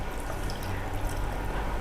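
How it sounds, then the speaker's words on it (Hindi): Water is poured into a pan of okra simmering in a spiced yogurt gravy, making a steady, close splashing rush that fills the whole moment without pause. "थोड़ा सा पानी ऐड करेंगे"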